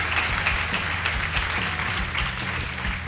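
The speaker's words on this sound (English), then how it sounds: "Let's clap for them." A school debate audience claps for the winning girls' team, producing a steady, moderately loud wash of many hands applauding without any talking over it.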